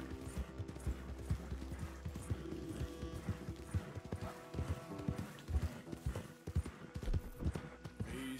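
Horse hooves clip-clop steadily at close range in Red Dead Redemption 2, with a faint whinny and a rumbling game ambience underneath; no talk is heard.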